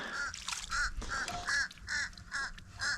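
A crow caws outdoors near a muddy marsh, a series of about eight rhythmic harsh calls spaced roughly every third of a second, fairly clear and moderately near.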